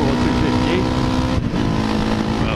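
A Honda CRF250L 250 cc dual sport motorcycle accelerating on a countryside road, its engine a loud, close, continuous drone with steady harmonics and some wind rush throughout.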